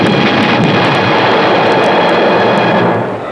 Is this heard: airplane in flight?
yes